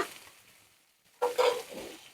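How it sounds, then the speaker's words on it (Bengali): Eggplant frying in a pan for a fish and vegetable curry: a quiet moment, then a brief close burst of stirring scrapes and sizzle. "বেগুনটা একটু আমি লাল লাল করে ভেজে নেব।"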